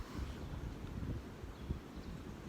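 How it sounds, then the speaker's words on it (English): Wind blows outdoors on a spring day, a steady low rumble buffeting the microphone for the whole moment. It sounds close and continuous, with slight gusts and no voices. "I can definitely hear the wind today."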